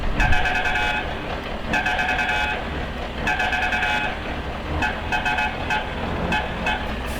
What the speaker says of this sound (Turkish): Böyle ilginç bir korna gerçekten.